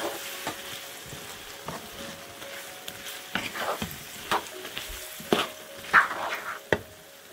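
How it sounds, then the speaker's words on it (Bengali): A garlic pickle mixture with jaggery and sugar being stirred in a pan, making soft scraping and faint sizzling with occasional louder knocks of the spoon, close and without talk. "আবারও সব কিছু মিশিয়ে নিচ্ছি।"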